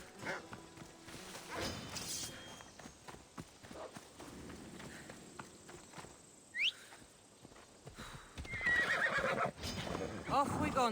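A horse whinnies and its hooves clip-clop along in a video game, with game ambience and a swishing sound, fairly loud and close.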